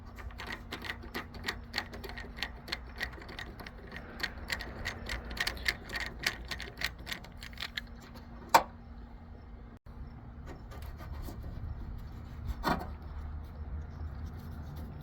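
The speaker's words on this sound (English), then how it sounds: "you have to unscrew or pry out this middle piece and then the whole trim screw will get out." A Phillips screwdriver works a plastic trim screw on a Dodge Ram 1500 headlight, giving a run of sharp repeated clicks and ratcheting ticks, then a few scattered louder snaps and pops as the piece pries loose.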